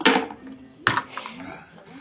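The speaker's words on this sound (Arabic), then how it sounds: "المهم دخل في بعضها كتشوفوا راني نقلب فيه يتقلى مليح مليح" Berkoukes pasta frying in oil in a pot while being stirred, metal utensil clinks and scrapes against the pot with a faint sizzle underneath, someone speaking over it.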